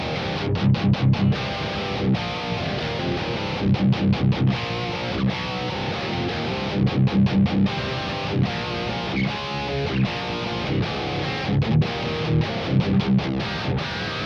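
A PRS SC245 electric guitar played straight into a Kemper amp profile, raw, chugs through a steady riff, muted choppy strums broken by short gaps, loud and close.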